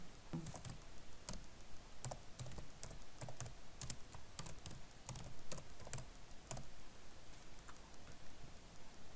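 Typing on a computer keyboard, a quiet, irregular run of light key clicks and taps heard up close, with short pauses between bursts.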